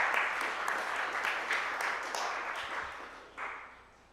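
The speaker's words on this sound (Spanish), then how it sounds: "Aplauso para ella y todos los líderes estudiantiles de nuestro país." Quiet applause for student leaders ripples through a lecture audience, a soft, steady wash of hand claps with a few sharper bursts that gradually dies away.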